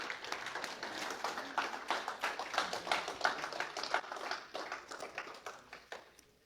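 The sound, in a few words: congregation applauding for Jesus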